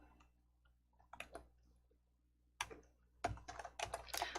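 Keystrokes on a computer keyboard while a file name is entered: a few soft scattered taps early on, then denser, louder bursts of typing toward the end over a quiet room hum.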